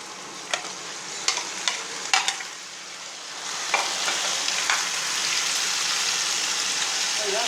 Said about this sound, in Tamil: சிக்கனை போடும்.